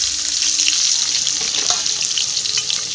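Chopped onion, garlic, ginger and nigella seeds sizzle loudly in hot white oil, a dense, steady frying hiss close to the pan that fills the whole moment without any voices.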